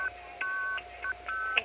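Multi-frequency telephone signaling tones on a 1975 city exchange line, a quick sequence of short paired-tone beeps in steady rhythm, clear and fairly quiet.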